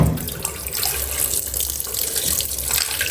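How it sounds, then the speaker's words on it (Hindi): Steady running tap water at home as something is rinsed clean, a loud close splashing hiss that continues throughout with no voices. "थोड़ा सा मैं धो देती हूँ अच्छे पानी से।"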